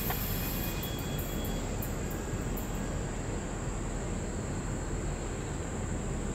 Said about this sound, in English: There she goes, folks. Eastbound Intermodal with the DPU.